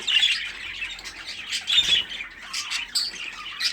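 Several budgerigars squawk and chatter shrilly together, close and busy, with no one speaking.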